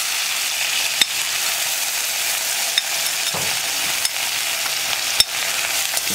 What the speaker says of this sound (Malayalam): ഈ എണ്ണയിലേക്ക് തന്നെ നമ്മൾ ചതച്ചു വെച്ചിരിക്കുന്ന ഉള്ളി ചേർക്കുകയാണ്.